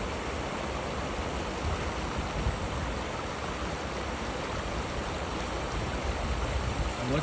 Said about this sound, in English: There you have the waterfall up ahead, a little island in the stream.